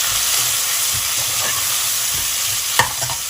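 Onions with salt sautéing in a pan for prawn biryani, giving a loud, dense, continuous sizzle with a single sharp clank from a utensil near the end, close up with no talking.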